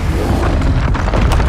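A Confringo fire spell explodes in the video game Hogwarts Legacy, a loud, dense blast with a deep rumbling boom that holds steady throughout, punctuated by a few sharper bursts near the end.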